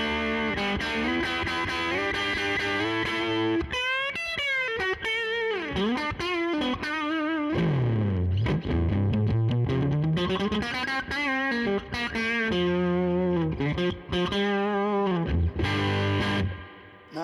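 A Tone King Imperial MK II amp's rhythm channel is cranked and run through an attenuator, giving crunchy, distorted electric guitar. Bent notes and quick phrases flow continuously at a steady, moderate level.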